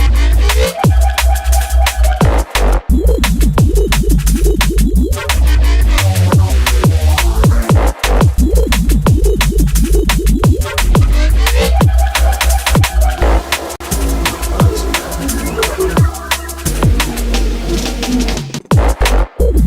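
Dance music track with heavy compression and clipping: loud, dense and flat in level throughout, a pounding bass beat under a busy, distorted-sounding mix that stops briefly near the end.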